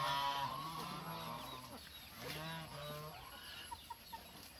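Geese on a farm with cows honk and cackle nearby as they come to eat chopped napier grass, a few loud calls at first, then quieter scattered honks.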